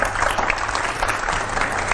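A crowd at a devotional talk on the Ramcharitmanas breaks into applause, sharp overlapping claps at moderate loudness with slight rises and dips over a faint low hum.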